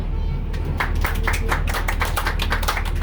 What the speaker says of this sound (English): scoring the spontaneous round of applause before we even left the parking lot